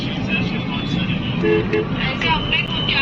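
Car horns toot briefly amid a steady rumble of road traffic and engines, with people talking nearby.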